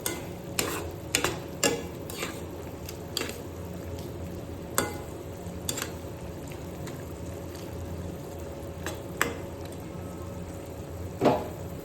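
Adobo stirred in a pan, repeated scraping strokes and spoon knocks over a low sizzling bed, irregular rhythm across several seconds, close and moderately loud.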